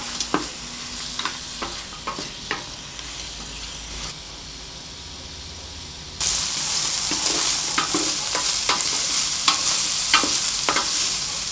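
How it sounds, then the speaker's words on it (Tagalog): Native chicken sautéing in its own rendered fat for Bisaya-style adobo, giving a steady sizzle that grows louder partway through, with scattered scraping and stirring clicks against the pan. "gigisahin lang natin sa sarili niyang mantika"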